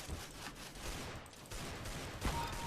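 Automatic gunfire in Counter-Strike: Global Offensive, rapid bursts of machine gun shots crackling through a busy, moderately quiet game mix.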